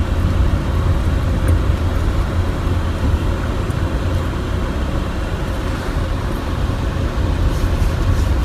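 A Maruti XL6 drives off-road in the rain with a steady broadband road and engine roar throughout and no speech.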